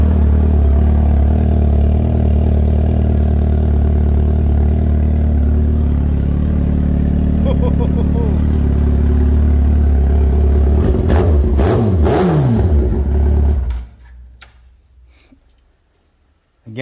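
A 2002 Yamaha R1 motorcycle engine idles loud and steady up close, then blips through a few quick revs before shutting off into near silence.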